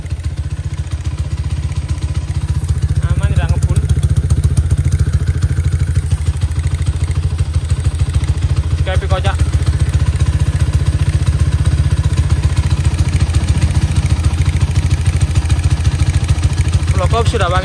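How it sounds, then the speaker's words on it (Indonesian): A Honda GL-100 motorcycle fitted with a PWK 34 carburetor runs steadily at a smooth idle up close, its low engine drone constant throughout while someone talks over it. "Mesin halus, karbu pakai PWK 34 ya."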